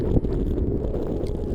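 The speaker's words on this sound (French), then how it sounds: "le vent monte à plus de 100 km/h en moins de 5 minutes" Strong wind above 100 km/h near Cape Horn roars and buffets the microphone aboard a sailboat in a continuous heavy rumble, with gusty surges and no voices.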